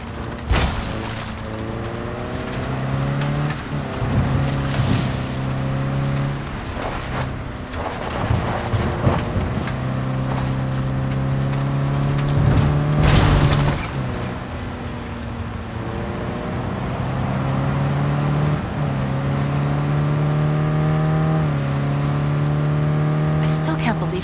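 A car in the video game Cyberpunk 2077 drives and revs, its engine tone rising and shifting in repeated waves under rain and thunder, while people talk over the driving.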